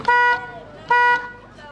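Two short honks sound from the horn of a homemade electric car built by a 17-year-old in Burkina Faso. The blasts are loud and close, each lasting about a quarter second, with a brief pause between them.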